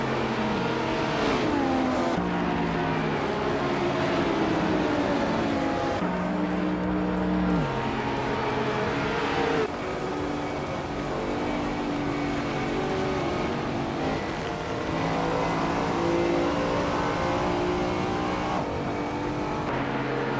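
Race cars roar through a close contest for the lead, with loud, continuous engine whine rising and falling in pitch as cars rev, accelerate and speed past, and occasional tire squeal under the steady din.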